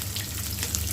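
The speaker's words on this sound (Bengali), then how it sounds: "কিছুটা ভেজে নিব।" Onions, chilies and bay leaves fry in oil for a liver singara filling, giving a dense, steady, close sizzle with fine crackles and no pauses throughout.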